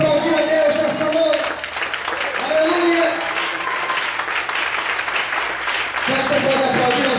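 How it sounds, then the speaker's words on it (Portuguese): A church congregation claps together in a sustained, dense round of applause, with voices speaking over it now and then. "Quantos podem glorificar e aplaudir a Deus nessa noite?"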